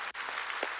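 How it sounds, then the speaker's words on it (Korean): A church congregation claps in a short, dense burst of applause that fills the hall evenly, with a brief dip near the start and no voices over it. "하나님께 박수 칩시다."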